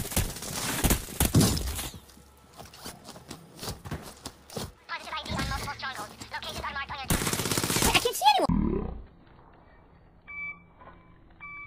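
Bullets strike in a first-person shooter, a dense barrage of rapid cracking impacts, gunfire and shattering sounds with beeps, loud and busy, with talk mixed in.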